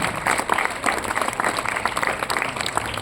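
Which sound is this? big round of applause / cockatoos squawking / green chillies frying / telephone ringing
big round of applause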